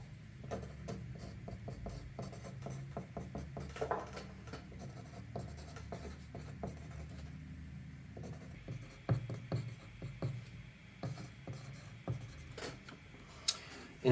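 A pen scratches on paper as a passphrase is written down by hand, quiet and close, with irregular strokes and brief pauses, plus a few light taps and rustles.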